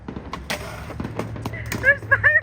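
Fireworks pop and thud at a distance behind an outdoor skate spot, a few scattered bangs over a low background hum, with people talking and exclaiming nearby.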